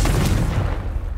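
A Confringo spell in Hogwarts Legacy on PS5 lands as a loud, close blast: a deep boom with a crackling burst on top that fades over about a second, with no talking.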